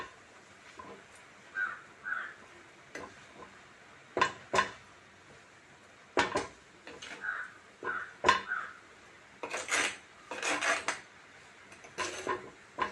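Drumstick leaves stir-fried in a pan, stirred slowly with a utensil, giving scattered clinks and scrapes of metal on the pan amid quiet pauses, with a crow cawing in the background.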